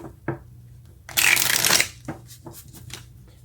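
Tarot-style cards shuffled for a reading: a short riffle burst lasting under a second, preceded and followed by a few soft taps and slides of the deck, close and clear in a quiet room.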